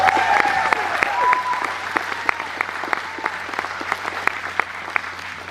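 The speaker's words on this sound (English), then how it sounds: "Let's hear it for Nathan" Wedding guests clap and applaud during a reception toast, a steady wash of many hands with sharp individual claps near the mic, some cheering tones early on, fading slightly toward the end.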